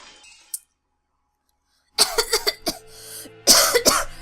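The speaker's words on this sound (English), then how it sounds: "That was a real cough." After a near-silent gap, a burst of several harsh, close coughs in quick succession, then another loud fit of coughing.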